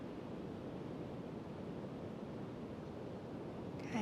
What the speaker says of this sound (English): and also sounds in this recording, birds, ocean